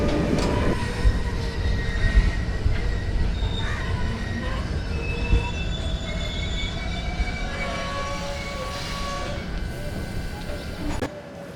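A diesel-hauled Leelan Express passenger train running on Indian rails, heard from near the door as a loud, continuous rumble of wheels and wagons with squealing tones, with brief voices audible beneath the noise.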